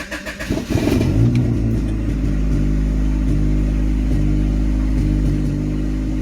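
A car engine starts for the first time while running rich, revving briefly with a rough burst before settling into a loud, steady idle with a pulsing beat, close by and with no one speaking.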